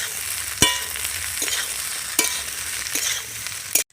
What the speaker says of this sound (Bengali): এবার সবগুলো আমি ভালো করে কষিয়ে নেব।